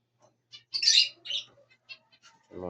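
Pet African parakeets give a quick run of bright, close chirps and squawks while being fed, with short pauses between calls and a brief low buzzing sound at the end.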